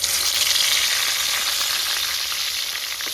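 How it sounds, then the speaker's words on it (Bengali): Fish heads frying in hot oil in a home kitchen pan, a loud, steady bright sizzle with crackling spatter that continues without pause, close up and with no voices. "সবার প্রথমে মাছের মাথাগুলো ভেজে নেব।"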